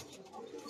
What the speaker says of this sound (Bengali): এটা হচ্ছে এই মাদিটা, একটা মাদি কবুতর